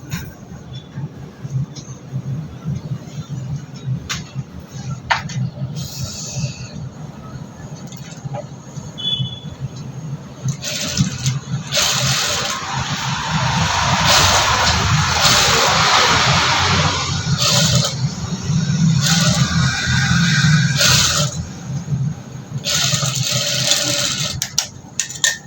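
A sewing machine stitching the sleeve onto a boat-neck blouse, a steady whirring motor hum that grows louder and more intense midway, with short bursts of faster running near the end.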